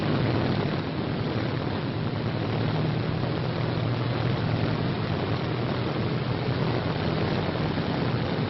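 Steady, loud droning roar of a WWII P-47 Thunderbolt propeller fighter's engine, constant and unbroken, with no voices.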